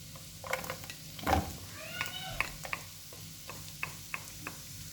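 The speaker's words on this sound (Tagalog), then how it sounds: "Ilalagay ko na yung ating sibuyas" Onions go into a pan of butter and crackle with a soft, steady sizzle, broken by a few sharp pops and clinks, while a nearby voice talks over the frying.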